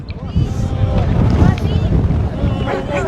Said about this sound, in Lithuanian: O vėjas.